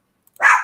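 A single short dog bark, loud and close, heard alone against silence.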